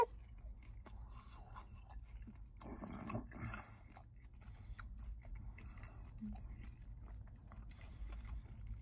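Biting into and chewing a Wingstop lemon pepper chicken wing flat, soft close-up crunches and wet chewing sounds repeating irregularly at low volume, with no talk.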